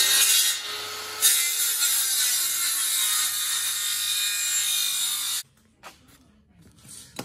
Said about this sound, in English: that's the guide to run your saw along to cut a nice straight line